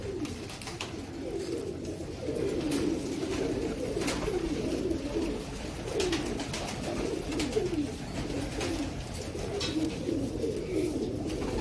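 Teddy pigeons cooing in a loft, repeated soft throaty coos in a steady rhythm with several birds overlapping, close and fairly quiet, no talking.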